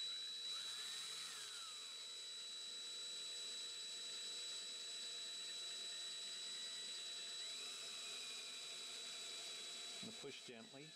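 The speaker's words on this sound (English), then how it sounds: "I'm going to drill through the backside because these are kind of like my pilot holes." A steady high-pitched whine of a power drill boring pilot holes through wood veneer for a guitar runs continuously, fairly close, with a sustained tone and a brief clatter at the end.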